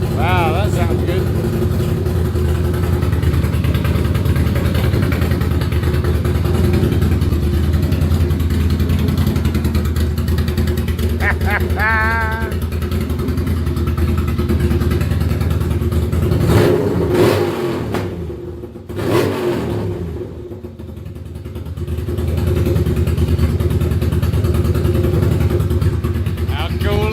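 A Ducati Monster cafe racer build fires up for its first start, its engine chugging at idle and revving in repeated loud surges, with a brief drop near the middle before it picks back up, and people talk over it.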